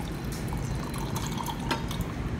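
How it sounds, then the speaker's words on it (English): Water poured onto ice in a glass, a quiet splashing trickle with a few crackles and clinks from the ice, heard alone at close range. "now we're gonna add some water to the ice."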